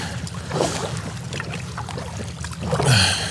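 Strokes of a feathered kayak paddle splash and swish through water, with drips trickling off the blade between strokes, close by.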